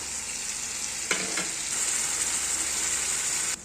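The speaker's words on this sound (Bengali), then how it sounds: "একটু জল দিয়ে কষাচ্ছি।" Chicken masala stir-frying in a pan with lemon juice and a splash of water, a loud continuous hiss and sizzle with a couple of brief stirring scrapes early on.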